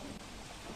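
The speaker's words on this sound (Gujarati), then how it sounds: "તો બનાસકાંઠાના પાલનપુરમાં ધોધમાર વરસાદ વરસ્યો છે।" Heavy rain pours steadily in Palanpur, Banaskantha, a dense, even hiss of downpour with no break, faint and distant-sounding, with no voices over it.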